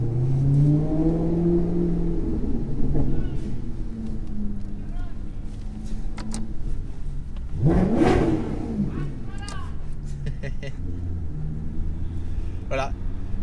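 A Maserati GranTurismo Sport engine revs hard on the road, the note rising in a sweep near the middle of the stretch, with someone talking over the steady motor drone throughout.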